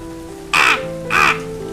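Two loud crow caws from a cartoon crow in a Hindi bird cartoon, each about a quarter second long, separated by a short pause over a steady background tone, with no talking.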